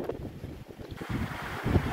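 Gusty wind from a coastal storm buffeting the microphone in low rumbling bursts, rising and falling unevenly over a couple of seconds with no voices, in Pasuquin, Ilocos Norte.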